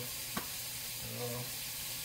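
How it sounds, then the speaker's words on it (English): Rice being stirred in a pan with Cajun seasoning poured in, giving a soft sizzle and scraping stir with one brief clink, fairly quiet and steady with no talking. "now I will take a little bit of the Cajun seasoning, so I'm going to pour it into the rice"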